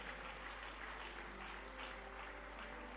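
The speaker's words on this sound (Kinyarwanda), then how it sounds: "Dukomere Imana amashyi tubakira." A church congregation applauds to welcome people coming forward during a service, a faint, steady patter of clapping throughout with no voices on top.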